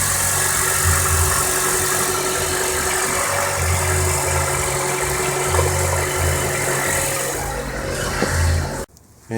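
Engine of an 8th-generation Honda Accord idling during an automatic transmission fluid flush, a steady low hum with a faint periodic pulse, close by, cutting off abruptly near the end.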